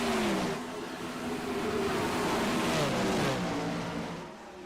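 Dirt sprint cars roar through a heat race, engines loud and close with pitch sliding up and down as they accelerate and pass, a steady dense racket throughout with no talking.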